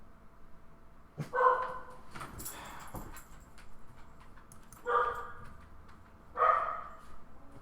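Dogs bark in a card game, three separate short barks spaced a few seconds apart over a low background hum, moderately loud and with no talking.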